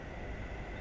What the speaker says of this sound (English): Here's a tram about to exit Victoria,